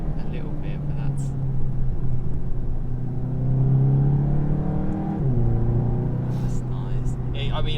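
A VW Golf GTI TCR Mk7.5 engine accelerates hard from low speed, a steady droning rumble that rises in pitch across the run, dips briefly at a gear change, then climbs again, heard from inside the cabin with a few faint noises.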